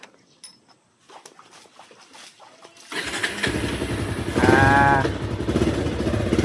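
A motorcycle engine cranks and catches after a few quiet seconds, then idles loud and close with a rising rev, near a rural plowing race event, with faint voices in the background.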